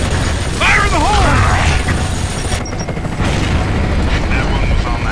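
Gears of War combat: a grenade explosion booms in a loud, continuous roar of battle noise, with mechanical clanks and voices shouting over it.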